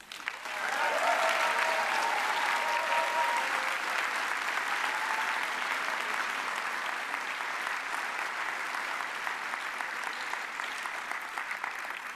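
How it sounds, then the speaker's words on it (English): A Green Party of England and Wales congress audience in Liverpool applauds loudly and steadily, a dense wash of clapping that holds for the full stretch and fades only slightly toward the end. "Please welcome her with a big applause."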